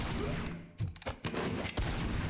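Gunfire in the video game Dune: Awakening, several loud, sharp bursts of shots in quick succession over a dense background of game sound, with no talking.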